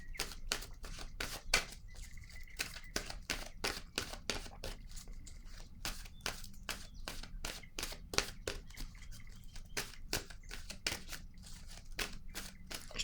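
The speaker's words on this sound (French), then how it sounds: "Je vais piger maintenant une carte de mon oracle de l'âme intuitive" Oracle cards being shuffled and drawn from an intuitive soul oracle deck: a steady stream of quick, crisp riffling flicks that runs throughout, close and soft, with no voice.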